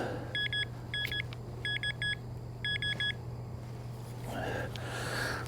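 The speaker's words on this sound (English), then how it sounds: "let me swing over it with the detector first. Make sure it's still detectable." A Nokta Legend metal detector swung over a dug target gives several bursts of sharp, rapid electronic beeps in short clusters, close and clear over faint background noise, then a few soft rustles.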